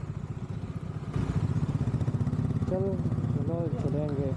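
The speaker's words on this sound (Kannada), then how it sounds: "ನಾವು ಮೈಸೂರು RMC ಹತ್ರ ಇರೋ ಪೆಟ್ರೋಲ್ ಬಂಕಲ್ಲಿ ಎಲ್ಲ ಬೈಕ್ಸ್ನು ರೀಫ್ಯೂಲ್ ಮಾಡಿಸ್ತಾ ಇದ್ದೀವಿ" Motorcycles idle with a low, steady engine rumble at a petrol station near RMC in Mysore while they are refuelled. Voices talk over the engines in the second half.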